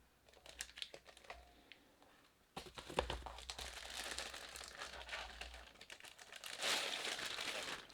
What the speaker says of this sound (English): The keyboard has come wrapped in a plastic bag